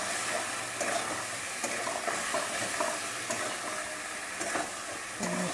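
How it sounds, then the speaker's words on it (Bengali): Soaked soybean chunks frying in a pan with spices while being stirred, a steady sizzle broken by repeated scraping stirs, close and without talk. "একটু ভালো ভাজা করে সয়াবিন দিয়ে দেবো।"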